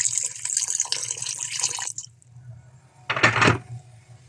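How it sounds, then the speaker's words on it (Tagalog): Water is poured from a container into a pan holding salmon and tomatoes, a close, steady splashing pour for about two seconds, then a pause and a second short burst of pouring. "Lagyan na lang natin ng tubig."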